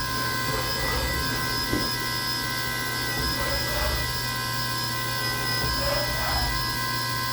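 An end mill cuts indents into a steel radius plate for a side track radius fixture, giving a steady high-pitched whine with a low hum beneath and brief periodic bursts of cutting chatter, close up with no voices.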